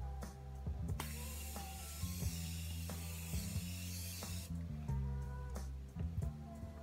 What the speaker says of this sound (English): this is like a continuous spray